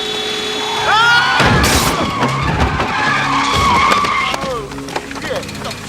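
Car tires squeal loudly in a long skid, followed by a heavy thud as the car hits another car. Engine noise and shouting voices overlap the crash, close and intense.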